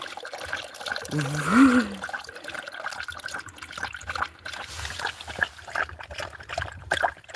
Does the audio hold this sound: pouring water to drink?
yes